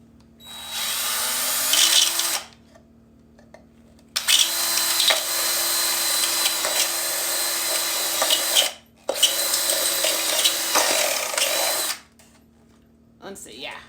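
Three bursts of a power drill whining at steady speed as it drills through plastic cups, each lasting a few seconds with short pauses between, close and loud.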